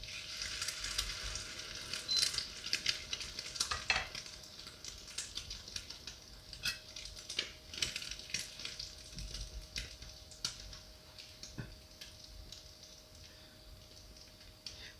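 A salmon fillet fries in a pan, giving off a steady hiss and crackle with scattered sharp pops and a few utensil taps, fairly quiet and close.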